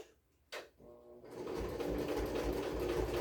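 A sewing machine stitches a seam on tailored shorts, starting after a brief clunk and then running in a steady, fast, close-up whir for the last half of the clip.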